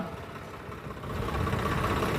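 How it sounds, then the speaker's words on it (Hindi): A tractor engine runs during a Republic Day parade at a stadium, a low, steady idling rumble that grows slightly louder and rougher partway through, heard alone without talk. "ट्रैक्टर चला रही है"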